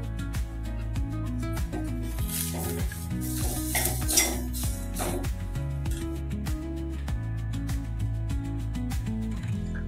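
A spice mix with coriander is roasted in a pan for Goan fish sukka, with steady scraping, stirring and light metallic clinks of a utensil against the pan under continuous background music.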